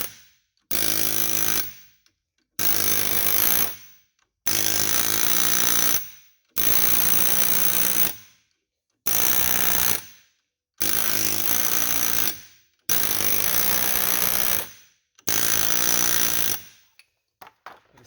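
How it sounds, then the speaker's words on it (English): A pneumatic air hammer strikes the lug nuts on a BMW xDrive front axle during installation, firing in about eight loud, rapid bursts of one to two seconds each. Brief silent gaps separate the bursts, all close to the microphone. "what I found is easier, air hammer, you get some vibration."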